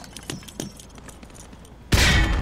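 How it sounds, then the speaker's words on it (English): A frag grenade detonates with a sudden loud blast at the end, following a few faint clicks and thumps on a training range in Call of Duty Modern Warfare 2. "Toss the grenade down the range to take out several targets at once."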